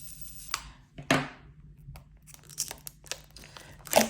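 Paper wrapping torn and crinkled off a board game box, several sharp rips and crunches in short bursts, close and fairly quiet with pauses between.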